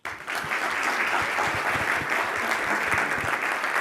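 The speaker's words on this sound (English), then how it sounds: "a big applause to the Berlin team in Google and all the founders there as well" A room full of people applauding the Berlin team at a startup founders' event, a dense, even wash of clapping that starts abruptly and holds steady for several seconds.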